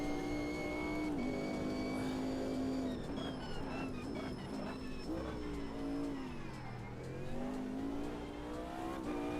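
Race car in a sim racing game at Donington Park, engine revving up and down with tires squealing as the back steps out under throttle and brake, loud and continuous with no talk.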